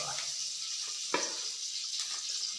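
Oil heating in a pan for potato palya, a steady close hiss with a soft clink near the middle, and no voices.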